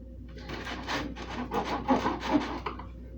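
Rough, rasping strokes of a bread knife sawing through the hard bottom crust of an artisan loaf, several back-and-forth passes in a steady rhythm, close up.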